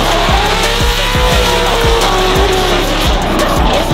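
Formula Drift car at practice, engine roaring with repeated rhythmic rev pulses and sustained tire squeal as it slides past, loud and close, with no voices over it.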